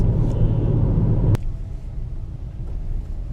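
Toyota Corolla Fielder Hybrid estate car driving on a road, a low steady rumble of cabin and road noise with a brief sharp knock partway through, quieter afterwards.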